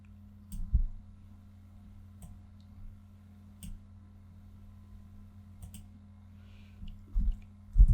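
Sparse, faint computer mouse clicks while working in Photoshop, a handful of isolated ticks over a low steady hum, with a couple of soft thumps.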